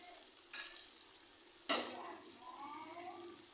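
Kosha aloo dum, a spiced potato curry, being stirred in a pan, soft sizzling with two distinct scraping strokes of a spoon, the second louder, then a gentle ongoing fry.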